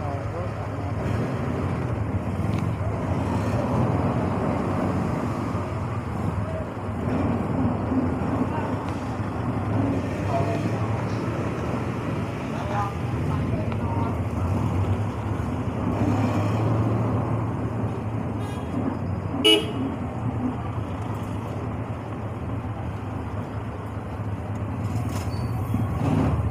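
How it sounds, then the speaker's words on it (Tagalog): Road traffic in Davao City along the Puan route, a constant low rumble of buses and cars passing nearby, with a voice talking over it. "Medyo traffic po tayo ngayon sa Uyang Gurin, pabalik po sa road natin."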